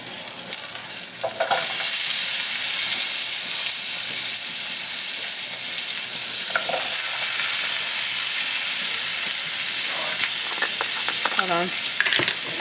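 Vegetables sauté in butter in a home-kitchen pan, a steady close sizzle with broadband hiss that runs continuously, with occasional faint clinks and brief tonal squeaks near the end, and no talking.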